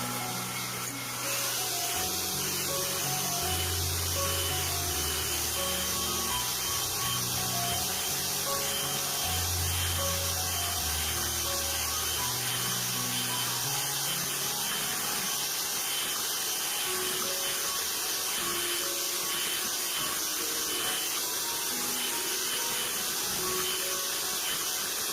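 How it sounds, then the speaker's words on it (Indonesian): Electric mixer beating sponge cake batter, a steady continuous whir running throughout at moderate loudness, with a lower rumble in the first half that fades away. "Kemudian mixer adonan dengan kecepatan rendah hingga tinggi, dimixer sekitar 10 menit sampai berwarna putih pucat,"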